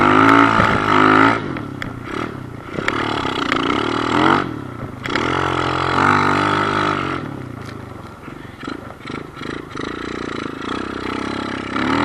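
A Kawasaki KLX110 pit bike rides across an icy field, its small engine buzzing loud and close with repeated revs and throttle changes that rise and fall throughout.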